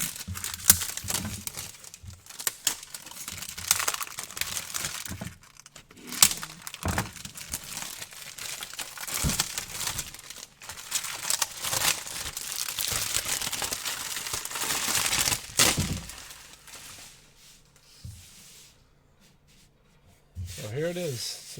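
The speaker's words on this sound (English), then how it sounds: "we're going to go ahead and bust this thing out of the plastic" Plastic packaging is torn and peeled off a self-healing hobby cutting mat, giving loud close crinkling, rubbing and ripping bursts that drop into quieter handling near the end.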